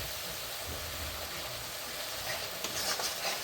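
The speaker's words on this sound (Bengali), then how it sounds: "এখন আমি মশলাটা ভালো করে কষিয়ে নেব" Spice paste for a Bengali soybean and potato curry fries in hot oil with a faint, steady sizzling hiss, and a few soft stirring scrapes near the end.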